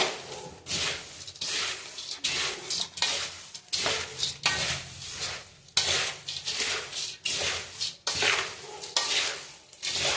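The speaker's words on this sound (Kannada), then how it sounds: "ಸೇವಾ ಹಾಕಿ ಮಿಕ್ಸ್ ಮಾಡಿಬಿಡ್ತೀನಿ" Sev is stirred into a mixture in a metal pan, giving loud, rhythmic scraping and clattering strokes, about two every second, with a light sizzle underneath.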